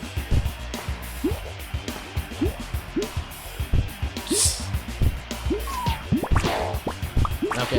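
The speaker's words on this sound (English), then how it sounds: "Water balloon." Water balloon splashing in a video game, a rapid series of wet drips and plops, close and fairly loud, irregular rhythm with a few brighter splashes, with a voice faintly in the background.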